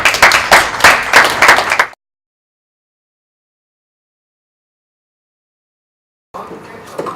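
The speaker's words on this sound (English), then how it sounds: "Give her a round of applause, everybody." An audience at a live marine conservation festival show breaks into a loud round of applause that lasts about two seconds, cuts to silence, then returns more faintly near the end.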